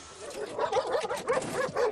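A Moroccan Royal Gendarmerie working dog, trained for explosives search and detection, gives a run of quick excited barks and yips close by, rising and falling over a couple of seconds.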